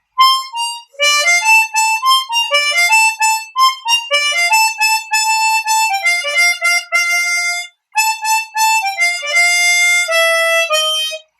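A single chromatic harmonica plays a jazz standard, a bouncy, swinging tune in clean, bright sustained reedy notes with short pauses between phrases, sounding close and alone.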